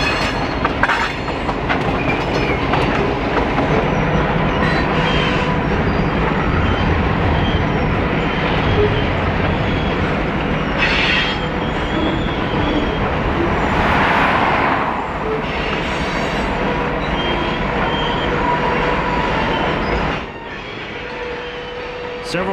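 A long freight train with hopper cars rumbles past close by on the Goose Lake Railway's Lakeview Branch, steel wheels clacking on the rails with occasional squeals, a loud steady roar easing slightly near the end.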